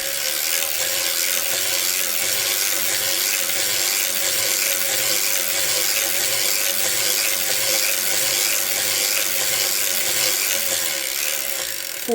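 A circular sock knitting machine cranked through rows of a 64-stitch sock, giving a steady, close mechanical clatter with a rapid ratcheting rhythm and no talk.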